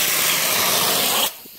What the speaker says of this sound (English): You could spray it for hours and hours like I'm doing.